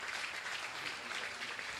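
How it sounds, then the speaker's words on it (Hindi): Audience applause at a religious gathering welcoming a local legislator: a dense, steady wash of clapping from many hands, filling the whole short moment. "आपने तालियों का अवदान देकर के सम्मान गर्माक बढ़ाइए बंधु"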